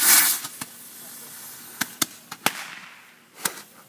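Fireworks in North Carolina burst in a string of sharp, scattered pops and bangs, some close and loud, others fainter, with no talk.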